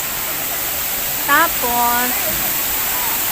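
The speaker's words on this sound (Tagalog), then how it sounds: "yan yung tubig" Water pours steadily in a waterfall at a bird park, a constant broad rushing wash, close and fairly loud, with a brief voice speaking over it.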